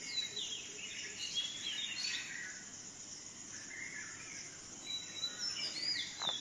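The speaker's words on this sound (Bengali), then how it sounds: "সকালবেলায় পাখি ডাকছে।" Birds calling around a house on a quiet morning, with thin chirps and whistles that are faint to moderate, and a soft insect hum underneath.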